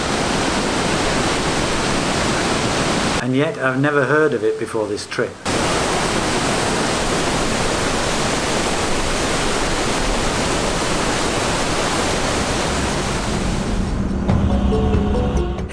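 Augrabies Falls in South Africa, a 56-metre waterfall, roars as a loud, steady broadband rush throughout, briefly dipping while someone speaks over it.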